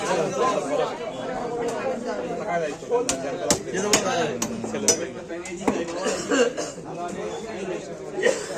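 Fish being chopped at a market stall, with sharp irregular thwacks of a blade on a board ringing out among clinks of pans and metal, close and loud under steady chatter and people talking.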